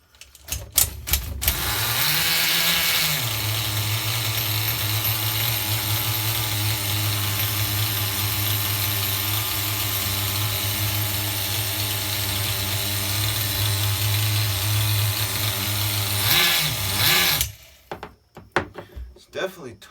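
An HPI RS4 nitro RC F150 pickup engine runs steadily and loud for most of the stretch, a buzzy, rich-tuned idle-to-rev drone that starts up, holds for about fourteen seconds, then cuts off abruptly.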